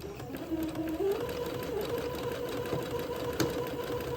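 A sewing machine stitches insertion lace onto beading for a Christmas dress, with a steady close mechanical hum and rapid needle rhythm running continuously throughout.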